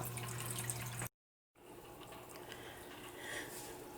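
Two aquarium filters run on a fish tank, giving a steady low hum with a trickle of water splashing and dripping throughout, broken by a brief dropout of silence partway through.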